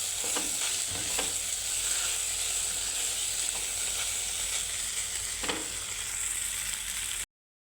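Sabudana khichdi stirred and frying in a pan gives a steady close sizzle throughout, with a few soft scraping knocks of the spoon and no talking.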